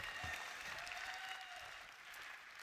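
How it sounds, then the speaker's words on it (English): Faint, steady applause from an audience at a Texas MICHELIN Guide awards ceremony, a distant wash of many hands clapping that tapers off slightly near the end. "Let's give them all a round of applause."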